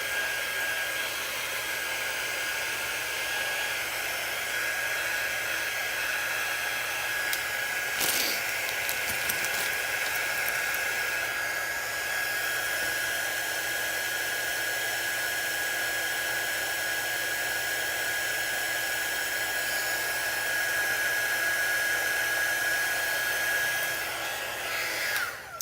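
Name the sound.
hair dryer drying resin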